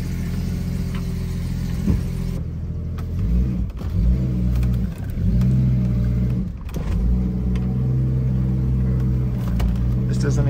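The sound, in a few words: Jeep ZJ engine revving loudly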